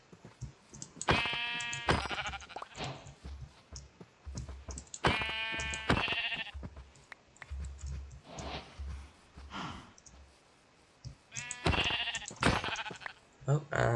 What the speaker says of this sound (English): Many, many sheeps.